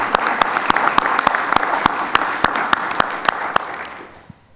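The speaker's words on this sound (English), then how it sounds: "let's give them a round of applause and thank them for being here today" An audience at a legislative forum applauds the assembly candidates, a dense, steady roar of clapping with loud individual claps nearby, fading out at the end.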